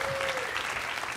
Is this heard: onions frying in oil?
no